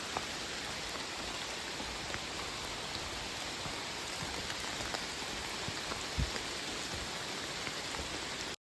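Heavy rain pours steadily on the Appalachian Trail near a gravel rock road, a dense, continuous hiss of drops on surfaces with no voices, close and loud throughout.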